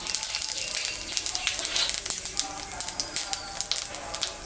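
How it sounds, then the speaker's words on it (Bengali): Cumin seeds hit hot oil left from frying puti fish in a home kitchen, giving a continuous crackling sizzle with fine popping spatters, fairly close and steady throughout. "জিরাটা সম্বরা দিয়ে দেব"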